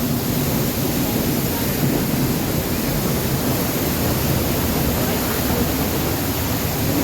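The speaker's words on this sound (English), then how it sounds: "And this is exactly behind the waterfall," Edessa waterfall in Greece heard from directly behind the falling water: a loud, steady, dense roar of rushing water filling the whole clip without a break, with no talk over it.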